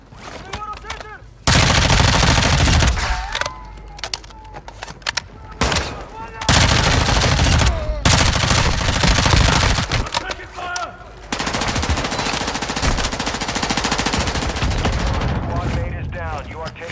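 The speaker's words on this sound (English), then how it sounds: "You are taking effective fire." Video game gunfire: heavy bursts of rapid automatic shooting come in long loud stretches, broken by short pauses, with voices talking in between.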